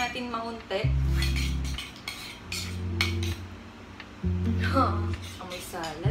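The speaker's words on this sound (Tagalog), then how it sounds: "So, haluin lang natin maunti." A spoon stirs all-purpose cream mixture for coffee jelly in a bowl, clinking and scraping against the sides in bursts, while someone talks over and between the stirring.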